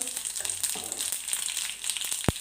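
Mustard seeds and cumin dropped into already hot oil, giving a bright, continuous sizzle with scattered crackles and one sharp pop near the end, with no voices.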